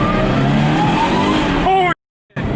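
Subaru BRZ fitted with an Innovate supercharger accelerating, heard from inside as a loud engine drone climbing in pitch, then cutting off abruptly before resuming; a voice speaks over it.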